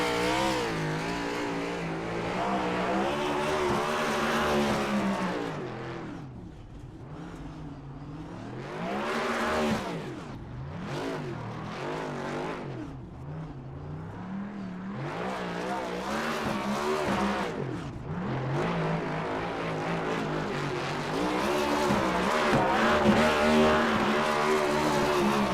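Race truck in a racing game, engine revving hard in repeated surges with long squealing tire sweeps during a celebratory burnout, loud and continuous throughout.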